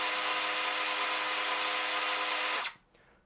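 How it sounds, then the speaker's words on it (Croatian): A Dewalt DCS438 76 mm cordless cut-off tool spins at no-load idle with a steady high-pitched whine, then winds down and cuts off near the end. "Da pogledamo i broj obrtaja u praznom hodu."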